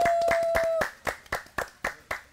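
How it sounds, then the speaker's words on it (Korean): A small studio audience claps for a performer on a Korean variety show, a tone fading out early, then several sharp separate claps in a loose rhythm, close and fairly loud. "우리 민주 씨에게 큰 박수를 드립니다"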